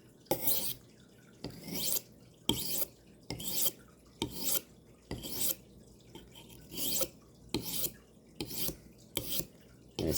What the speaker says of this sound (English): to suggest that you sharpen a knife